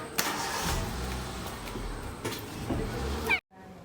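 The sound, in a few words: car arriving with engine running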